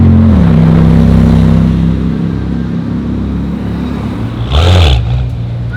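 A car engine revs on a Zurich street, a loud, close, steady rumble that rises and falls in pitch, with a short sharper surge near the end.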